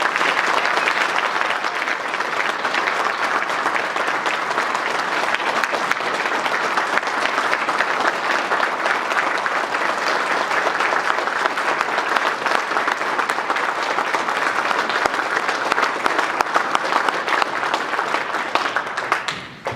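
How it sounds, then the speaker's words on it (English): A crowd applauds the Army's newest second lieutenants at a university ROTC commissioning ceremony, giving dense, steady, loud clapping that holds for about twenty seconds before tapering off at the end. "let's give the Army's newest second lieutenants a round of applause"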